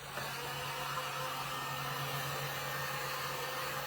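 A hair dryer blows a steady, close, unbroken whir while drying fresh paint on a cowboy tray, with no talking over it.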